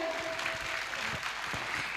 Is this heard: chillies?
no